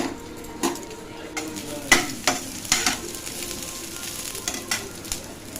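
Crushed garlic and a couple of dried red chilies sauté in a pan, with a soft sizzle under repeated scraping and stirring taps of a utensil against the pan, close by.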